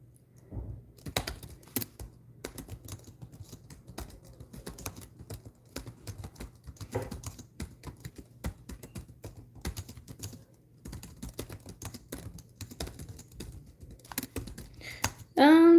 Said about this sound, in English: Typically I'm pretty decent in typing.